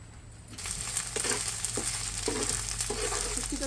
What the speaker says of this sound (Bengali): আগে হচ্ছে আমি শুটকিটাকে একটু তেলের ভিতরে ভেজে নিব